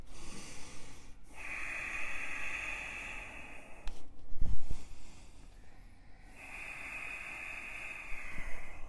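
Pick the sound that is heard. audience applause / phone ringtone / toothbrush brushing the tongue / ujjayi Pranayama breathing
ujjayi Pranayama breathing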